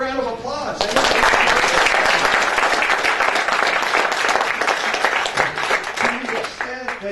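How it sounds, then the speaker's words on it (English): A room full of people bursts into applause for area governors, a thick, sustained round of clapping that starts after a moment of speech and carries on for several seconds with voices mixed in. "These ladies, give them a round of applause."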